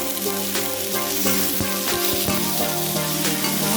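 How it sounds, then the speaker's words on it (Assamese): Pumpkin pieces sizzle and crackle in hot oil in a pan while being cooked for a prawn curry, a steady close frying hiss broken by a few sharp stirring clatters. "ৰঙালাওখিনি অলপ সময় মই এনেকৈ ভাজি ল'ম"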